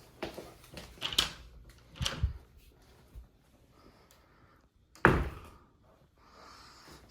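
A studio door being handled at the entryway at the foot of the stairs: several knocks and thuds from the latch and frame, close by, with a louder thump partway through and quiet pauses between.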